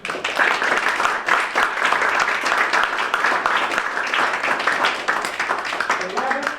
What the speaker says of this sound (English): how about one more round of applause for both Adam Swanson and Chip Templeton's presentation